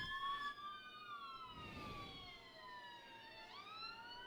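Two fire engine sirens wail as they pass outside, their rising and falling tones sweeping loud and steady over a low rumble of traffic, with a brief burst of broadband noise midway.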